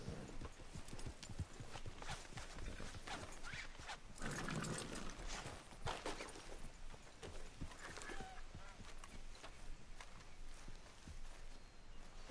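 Horse hooves in Red Dead Redemption 2 clip-clop in an uneven walking rhythm on the ground, close and fairly soft, with a few louder stamps partway through and no voices.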